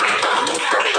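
A class of students claps together in a classroom, a brisk, loud patter of many hands with slightly uneven rhythm, briefly and close by.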